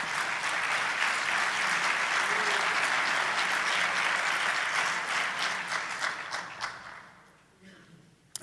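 Congregation at a church sermon breaking into sustained applause, a full even roar of clapping that gradually thins and dies away near the end.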